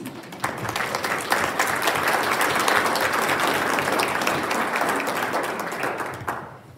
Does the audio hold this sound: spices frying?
no